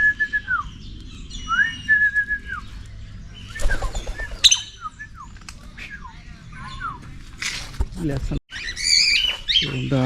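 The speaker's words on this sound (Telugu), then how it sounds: "బూడిద రంగు కాక్టైల్ బర్డ్స్ మొత్తం లోపల ఉన్నాయని" Grey cockatiels at a zoo in Tirupati chirp and whistle in short, rising calls, close and fairly loud, with bursts of wing flutter and a voice talking in places.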